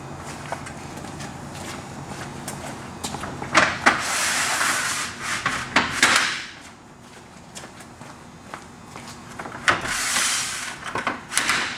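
An awning arm is slid along its full length and locked, giving a few close scraping glides and knocks with quiet gaps between them.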